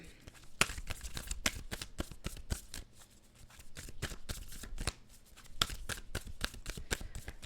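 Moonology oracle cards being shuffled: a fast, steady run of crisp riffling slaps and flicks, close and fairly quiet, continuing with only brief pauses.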